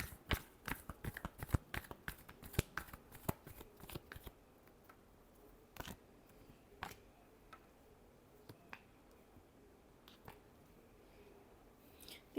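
Tarot cards being shuffled, a rapid run of crisp riffling clicks for about four seconds, then sparser single flicks and soft card slaps in a quiet room.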